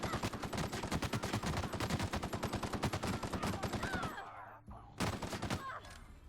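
Rapid automatic gunfire from the player's weapon in The Outer Worlds rattles in a fast, steady stream for about four seconds, pauses briefly, then resumes with another short burst.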